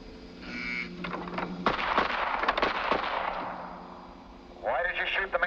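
Gunfire in a 1948 film, a sudden burst of sharp shots ringing out and decaying, with a voice speaking just before and after the shooting.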